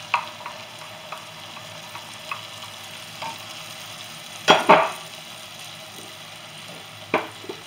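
Tomatoes frying in a pan for Moroccan meat-stuffed aubergines, with faint steady sizzling and a few soft stirring scrapes, one louder clatter of stirring in the middle and another near the end.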